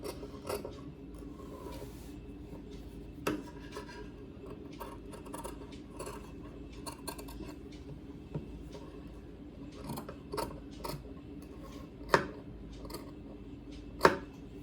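Scissors cut along a curve in fabric for a chudidar, giving soft, faint snipping and rasping close by, with a few sharper clicks of the blades closing, and no talk.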